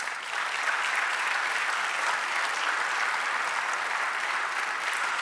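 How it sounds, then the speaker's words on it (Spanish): A church congregation claps together during a sermon, a full, steady round of applause that carries on at an even level without breaks. "Dar un aplauso al Señor."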